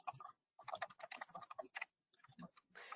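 Keystrokes on a computer keyboard typing an address into estimating software, a quick, close series of clicks in two runs with a short pause between.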